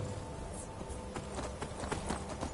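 Hooves of a horse clip-clop in the fantasy video game Skyrim, a quick rhythmic series of thuds over a busy game ambience, fairly faint throughout.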